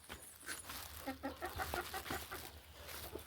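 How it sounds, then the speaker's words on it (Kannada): Chickens cluck in short, soft bursts over a low, steady background hum, with no one talking. "ಕೋಳಿಗಳು ತಿಂತಾವೇನೋ ಕುಕ್ಕಿ"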